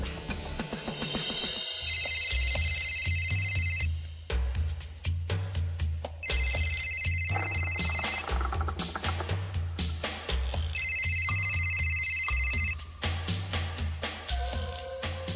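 A telephone rings out on an unanswered call, repeated electronic ringtone bursts in a steady pattern with short gaps between, fairly loud and close, with no voices.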